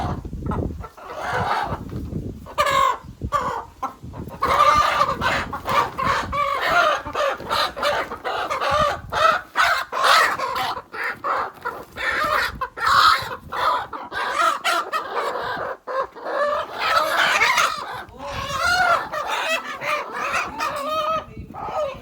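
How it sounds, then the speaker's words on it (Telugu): Country chickens (natukodi), freshly caught, cluck and squawk loudly and continuously at close range, a busy flock with repeated sharp calls and occasional crow-like cries. "ఇదిగోండి కోళ్ళు అయితే తీసుకున్నాము."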